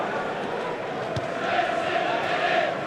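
A football stadium crowd at a Manchester United against Liverpool Premier League match roars steadily, a broad distant wash of cheering that swells a little toward the end, with one sharp thump near the middle.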